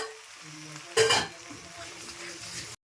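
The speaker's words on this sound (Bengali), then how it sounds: "এটাকে এভাবে করেই ভাজতে হবে" Jackfruit and prawns fry in a pan, a steady close sizzle with stirring clatter and a brief louder scrape of utensil on pan near the middle, with a faint tone in the background.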